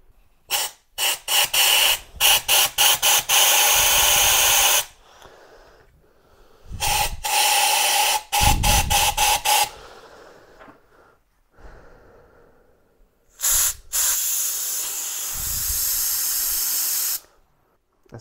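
Compressed air blown through blocked passages of a progressive Weber carburetor on a Mk2 Golf, heard as repeated loud close hissing blasts, some short and rapid, others sustained for several seconds, with pauses between.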